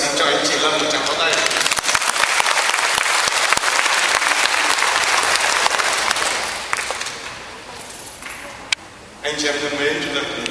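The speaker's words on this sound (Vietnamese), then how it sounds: "xin cho anh chị Lâm một tràng pháo tay" A wedding congregation at a Catholic nuptial Mass applauds the couple, loud dense clapping that swells, then thins and fades toward the end before a brief renewed burst, with voices mixed in.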